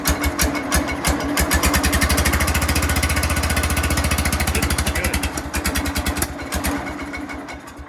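An old tractor engine that needs carburetor work thumps to life and runs in a loud, rapid, even chugging beat, heard close and alone, easing slightly toward the end.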